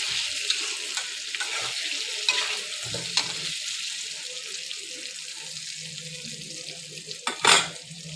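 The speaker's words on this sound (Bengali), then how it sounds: "এবার আমি ভালো করে না ভেজে নেবো আলুটা।" Potatoes seasoned with salt and turmeric fry in a pan, giving a soft, steady sizzle broken by occasional scraping and stirring clatters, including one sharper clatter near the end.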